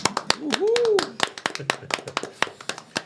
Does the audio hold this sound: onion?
no